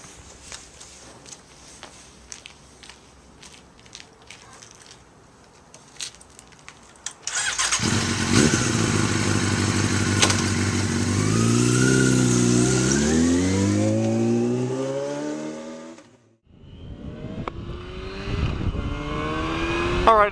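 A motorcycle engine starts and rises to a loud, steady running drone with shifting revs, cuts off briefly, then picks up again as the bike rides away; earlier there is faint background noise and some footsteps.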